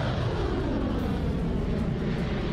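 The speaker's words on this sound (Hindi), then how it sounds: "वहां का आसमान लड़ाकू विमानों की गरज से गूंज उठा।" Fighter jets roar overhead during an Iranian military exercise, a loud, continuous, broadband engine rumble that fills the whole moment and cuts off abruptly at the end.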